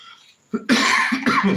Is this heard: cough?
yes